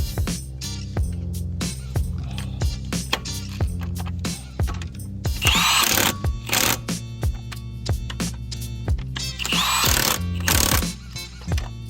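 An impact wrench works on a stuck lug nut of a Ford Fusion, giving rapid close hammering rattles over a loud motor whir, with two heavier, noisier bursts partway through.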